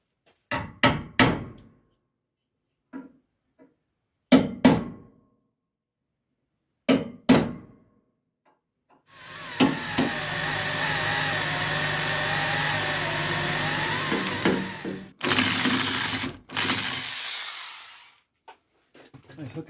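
Work on a Ford Escort MK1 chassis leg: a series of sharp metallic punch taps in small clusters, then a steady, loud whine of a drill boring out spot welds for several seconds, ending in short bursts.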